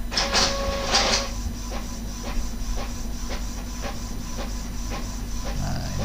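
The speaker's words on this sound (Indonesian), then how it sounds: "Nah, ini kita bisa tes print. Nah, ini jalan, printernya jalan." An Epson L3110 inkjet printer runs a test print, with a steady mechanical hum and a regular train of soft ticking and clicking as the print head moves, close and moderately loud, with no talk.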